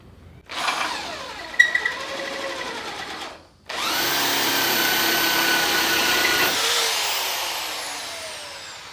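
A power drill spins a wooden dowel, whining up for a few seconds, stopping briefly, then running again in a long steady drone before winding down, close and fairly loud.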